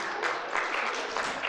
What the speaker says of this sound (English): I think we can clap for her.